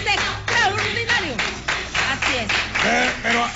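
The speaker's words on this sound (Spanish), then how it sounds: "Un aplauso para Mujica, que lo hace extraordinario" Studio audience on a news show clapping for Mujica, a patter of hands running beneath a voice that keeps talking over it.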